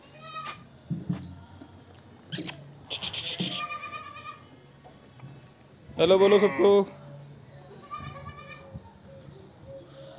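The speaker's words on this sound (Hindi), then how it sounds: "ये बच्चे हैं, भेड़ के भी बच्चे मिल जाएंगे आपको यहाँ पर" Goats and sheep with young kids and lambs on a farm bleat in several loud, short cries spread across the moment, while a person speaks between them.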